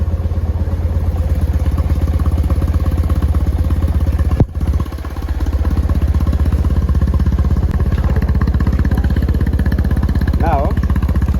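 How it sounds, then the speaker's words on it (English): A Yamaha TMAX 500 scooter engine, one with a charging system fault, runs steadily close by in a continuous mechanical drone with a short dip midway. It holds a fairly even idle throughout, and a voice briefly overlaps near the end. "And then the bike is starting."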